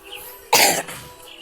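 A single sharp cough stands out clearly against quiet background noise.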